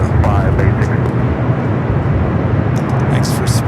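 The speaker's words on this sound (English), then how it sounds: "United Dreamliner rolling down to 25 right." A United Boeing 787 Dreamliner rolls along a runway at Los Angeles airport, a loud, steady broadband engine roar filling the whole stretch with a voice speaking over it.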